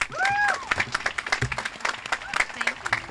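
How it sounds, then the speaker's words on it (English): A graduation audience applauds in a steady burst of clapping from many hands, with scattered cheers and a whistle-like squeal near the start rising over the crowd. "Let's give them a round of applause"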